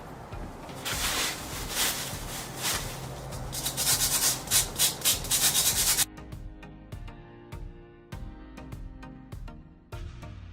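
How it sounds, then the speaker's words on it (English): Sanding block rubbing over a freshly cut craft piece from a dollar-store lip gloss prop build, a rough rhythmic scratching of repeated strokes that grows louder midway, then gives way to quieter tonal noise. "Now I'm going to use the sanding block to smooth it out."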